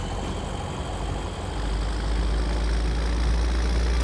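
A deep, rumbling truck engine in the video game Farming Simulator 2017 idles and revs slightly, a steady low growl with no voices.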